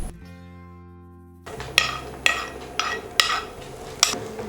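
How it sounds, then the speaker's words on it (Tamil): Roasted cashews and pistachios go into a pot of makhana kheer over low heat: a steady tone fades out, then a spoon scrapes and clinks against the pot in several sharp, evenly spaced knocks, close and fairly loud. "இப்போ நம்ம ஏற்கனவே வறுத்து வச்சிருக்க முந்திரியும் பிஸ்தாவையும் இதோட சேர்த்துக்கலாம்."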